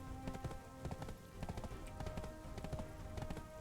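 Horse hooves clip-clop steadily in a video game, a continuous run of quick, soft hoofbeats at a plodding pace, quiet and unaccompanied by talk.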